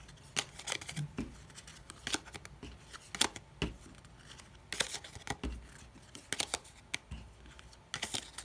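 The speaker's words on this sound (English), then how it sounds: "You'll draw 8 cards to start the play." Cards drawn from a deck in the Redemption collectible card game, a quiet series of close, crisp flicks and slides of cardboard cards at an irregular pace, with no talk.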